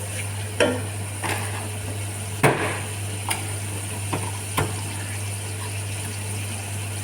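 Garlic sautéing in a pan while a recipe of pansit guisado with sardines is cooked, a steady low sizzle under a constant hum with several sharp clanks and scrapes of a utensil stirring.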